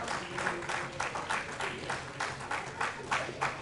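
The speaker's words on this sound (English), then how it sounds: "you people have to give an SRM clap for these two guys" An audience at a motivational seminar claps together in a hall. The clapping is moderately loud, dense and continuous, swelling in loose rhythmic pulses, with no clear talking over it.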